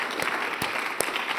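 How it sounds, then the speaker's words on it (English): Audience at a symposium's closing remarks applauds steadily, a dense wash of clapping hands at moderate volume with a few sharper claps standing out. "a special round of applause for Amelie"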